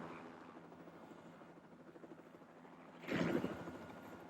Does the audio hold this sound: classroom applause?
no